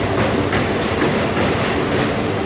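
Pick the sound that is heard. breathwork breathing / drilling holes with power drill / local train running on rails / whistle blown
local train running on rails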